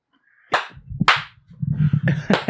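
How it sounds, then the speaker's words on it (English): Three sharp hand claps ring out with uneven gaps between them. Low murmuring sounds fill the spaces between the claps. "those 3 claps are gonna be fucking phenomenal"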